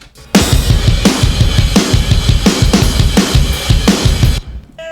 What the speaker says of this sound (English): so altogether, drums sound like this.